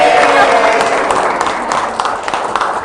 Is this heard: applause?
yes